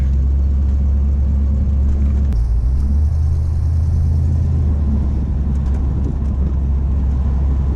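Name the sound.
1985 Mustang LX 5.0 convertible driving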